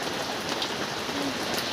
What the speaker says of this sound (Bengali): আমাদের এখানে ভীষণ জোরে বৃষ্টি হচ্ছে